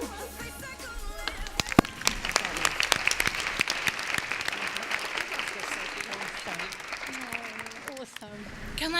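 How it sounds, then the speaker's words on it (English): Applause at a data and technology awards ceremony, a full room clapping steadily and loudly for several seconds before tapering off, with voices and a few cheers mixed into the crowd noise. "So please give them a round of applause."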